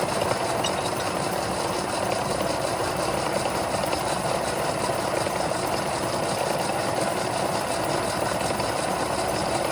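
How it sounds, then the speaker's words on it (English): A lathe hums and whirs steadily as a drill bores into a metal crankshaft, a continuous grinding drone with a faint rattling vibration, no voices. "And drill in."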